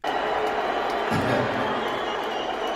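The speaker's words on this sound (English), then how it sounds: "Cheers and booze, I see." A large live crowd reacts to Elon Musk's appearance, with a steady wash of mixed cheering and booing that swells briefly in the middle and continues without a break.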